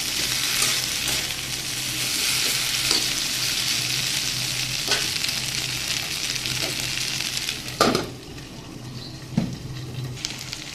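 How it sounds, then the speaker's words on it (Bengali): Steady, loud sizzling of potato, pointed gourd and gourd stems frying in a pan fills the whole stretch, broken by a few scraping clanks of stirring near the end. "সবজিগুলো কিন্তু বেশ ভালো করে ভাজা হয়ে গেছে।"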